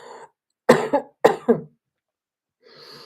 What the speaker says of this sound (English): I know the cough sounds horrendous